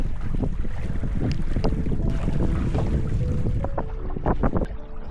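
A sailboat racing in light wind at Silverrudder 2024, with steady wind rush across the microphone, water washing against the hull and creaking gear, close and continuous with no talk.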